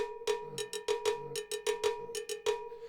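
A cowbell struck repeatedly with a stick in a lively syncopated pattern, bright metallic clanks ringing close and clear with nothing else heard.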